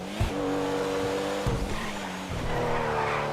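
A Pfister Comet S2 sports car in GTA 5 Online driving at high speed, its engine roaring close and loud with shifting pitch as gears change, and brief tire squeals mixed in.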